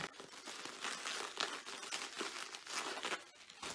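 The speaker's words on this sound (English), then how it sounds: "And then I'm going to add some bubble wrap." Bubble wrap being handled and crinkled while packing a breakable glass item into a shipping box lined with tissue paper, giving a steady run of close, dense crackling and rustling with small sharp pops throughout.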